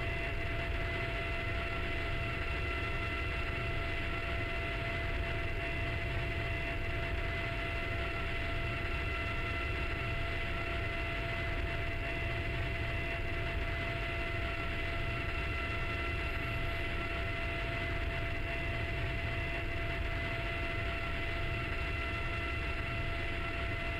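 Simulated jet aircraft from the Strike Fighters 2 flight game passing over an airfield, a steady, continuous engine whine with sustained tonal hum and broadband roar, unchanging in level throughout, no voices.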